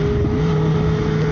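A stock Kawasaki ZX10 sport motorcycle exhaust drones steadily at idle on a dealership demo day, a loud continuous low hum with a steady tone and some wind noise.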